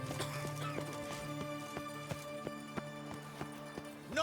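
Roach, a horse in The Witcher 3, gallops with a steady rhythmic clip-clop of hooves and lets out a whinny near the start, all over a low game ambience.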